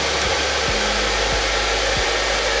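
An electric hair dryer runs continuously at full blast, a loud steady broadband whoosh with a low hum underneath, close to the microphone and without talk.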